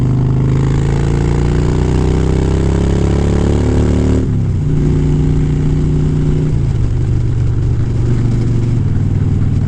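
A 2009 Harley-Davidson motorcycle engine under way, a loud, close, steady V-twin drone that shifts pitch with gear changes midway, strong low harmonics throughout with no talking.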